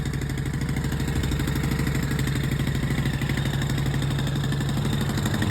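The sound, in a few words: hybrid bicycle engine warming up and idling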